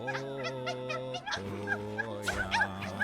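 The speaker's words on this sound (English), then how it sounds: "They're like barking." Small chihuahua-like creatures in the Silksong video game give rapid, high yippy barks in quick bursts over a steady tonal drone, fairly faint.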